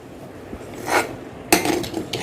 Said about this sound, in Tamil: இது எல்லாத்தையும் நல்லா மிக்ஸ் பண்ணிக்கலாம்.